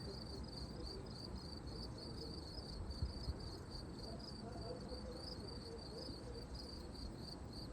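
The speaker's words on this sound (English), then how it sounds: "You hear the crickets?" Steady, high-pitched cricket chirping fills the background continuously, an even insect drone with no talking.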